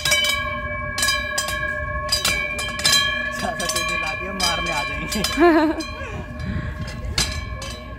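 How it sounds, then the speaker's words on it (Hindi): A bell-type hanging decoration at the entrance gate of an art and architecture exhibition at the Red Fort is shaken repeatedly, giving bright metallic clanks and ringing tones while someone talks over it. "एक तरीके से बेल टाइप कुछ बना हुआ है, इसे हिलाते हैं तो इसमें से आवाज़ आती है"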